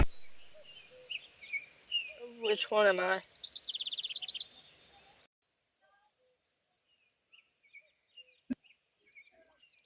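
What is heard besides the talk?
loud bird chirping in a video game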